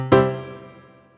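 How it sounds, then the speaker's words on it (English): A single note or chord struck once on a Montford MFDP9 digital piano with hall reverb on, ringing out with a long, spacious reverberant tail that slowly fades over about a second. "if I turn the reverb on, it sounds a bit more like we're playing in a hall"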